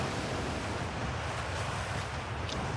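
A waterfall in Outer Wilds gives off a dense, continuous rushing roar, loud and close, with a broad steady hiss that does not let up.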